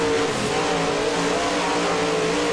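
A pack of dirt late model race cars roars past in a close group, a loud, steady wall of engine noise with revving and tire sound throughout.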